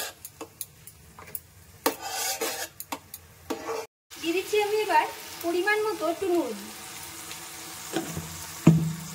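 Ridge gourd paste sizzling and being stirred in a hot pan, with scraping strokes while a person talks.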